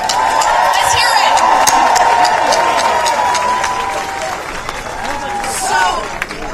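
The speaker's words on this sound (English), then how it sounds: "let's make sure we give them one last big round of applause" Outdoor rally crowd in New York City applauding and cheering loudly and continuously, a dense wash of clapping with shouts and crowd noise throughout, close and sustained.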